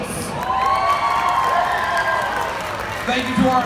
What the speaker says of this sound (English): can I please have one round of applause to some of the most important people in the room